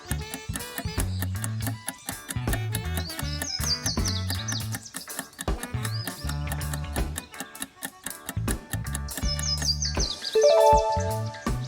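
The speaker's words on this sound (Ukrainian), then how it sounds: "прилетіли горобці і почали моститися на гілки" Sparrows chirping in a sound-effect recording, busy bright repeated chirps and tweets over a pulsing background, steady and close throughout.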